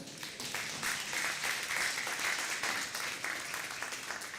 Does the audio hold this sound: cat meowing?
no